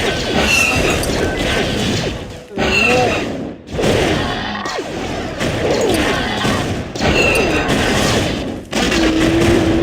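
Rapid cannon and blaster fire in Star Wars Galactic Battlegrounds, dense bursts of crackling shots and thuds stacked over a noisy battle, broken by a few short gaps.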